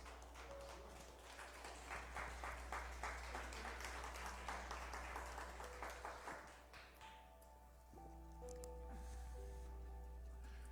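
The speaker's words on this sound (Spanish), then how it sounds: "Denle palmas al Señor" A church congregation claps for the Lord in a loose, rhythmic beat over a low hum, with many hands fairly faint and distant, and the clapping fades out partway through while soft tones continue.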